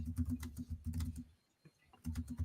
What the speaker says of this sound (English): I can hear that keyboard getting fucking punished